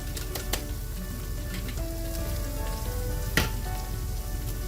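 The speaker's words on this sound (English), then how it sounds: "our ginger garlic paste has been cooking for about 2 minutes" Ginger garlic paste and spice powder frying in a pan for a chicken biryani, giving a steady soft sizzle throughout with a few sharp clicks, close and alone without talk.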